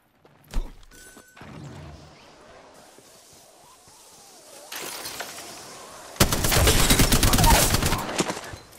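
Apex Legends gunfire bursts out in a dense, loud fusillade of rapid shots, preceded by a sharp single crack, quieter in-game movement and a softer spell of shooting.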